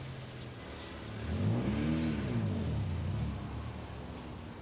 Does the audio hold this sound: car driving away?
yes